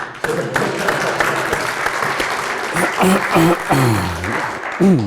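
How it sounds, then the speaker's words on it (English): Audience clapping for a debater at a governance symposium debate, a steady crowd applause throughout, with a voice speaking over it in the latter half. "Give him a clap"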